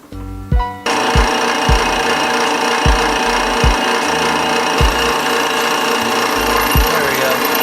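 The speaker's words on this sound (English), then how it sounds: "Gonna start marking where we're gonna drill." A power drill bores holes in a metal part for a sword. A constant loud whine runs throughout, broken by evenly spaced low thumps as the bit works through.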